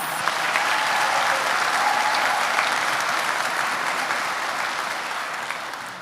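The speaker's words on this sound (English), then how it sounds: "Let's give these students another round of applause." Sustained applause from a graduation ceremony audience at Phillips High School, loud and dense, running steadily throughout and easing slightly toward the end, with no talk over it.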